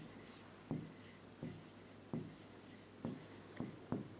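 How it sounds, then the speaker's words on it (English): Pen scratching across paper in short rhythmic bursts of handwriting, separated by brief pauses and soft taps, close and quiet. "So I'm going to write it."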